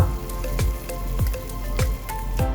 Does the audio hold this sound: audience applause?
no